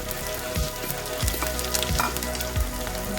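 Green chilies, grated ginger, curry leaves and dried red chilies sizzle in hot oil, a thick close hiss with a few rhythmic stirring scrapes, no voices over it.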